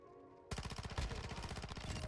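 Call of Duty MW2 gunfire in a match: after a brief quiet lead-in, a loud rapid automatic burst of closely spaced shots rattles on continuously, no talk.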